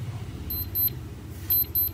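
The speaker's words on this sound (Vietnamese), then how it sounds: "Chuông nó khá nhỏ, để gần thì mới nghe được rõ." Alarm of a cheap waterproof, shockproof digital sports wristwatch, heard from close up: thin, high electronic beeps in two short clustered bursts separated by a pause, over a faint low background hum.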